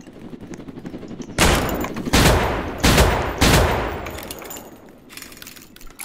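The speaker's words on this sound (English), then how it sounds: "I personally recommend having the rifle because it has a really good fire rate and 5 damage per shot." Rifle fire in the Roblox game Jailbreak: several loud, sharp bursts of gunshots in quick succession, each a few tenths of a second long, over faint background game noise.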